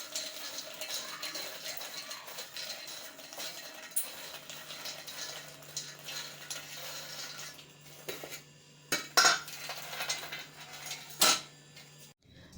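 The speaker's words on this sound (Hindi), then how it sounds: "तो पहले हम गरी कद्दूकस कर लेते हैं।" Dried coconut is scraped across a kitchen grater with continuous rasping strokes, followed by a few sharp clinks of utensils and dishes near the end, close and moderately loud.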